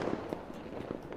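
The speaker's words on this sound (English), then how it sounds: "And we have fireworks." Fireworks alert sound marking a new follower on a farming game stream, a faint run of quick crackling pops and small bursts spread across a second.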